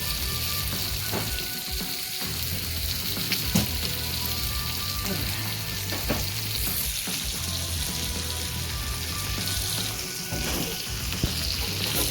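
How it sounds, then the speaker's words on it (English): Salmon fillets fry in a pan with a steady sizzle crackling for several seconds, with a few faint clinks and taps of utensils scattered throughout. "We're going to let these fry up."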